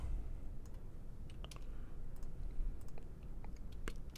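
Typing on a computer keyboard, with short bursts of light clicking keystrokes over a low background hum, close and moderately quiet.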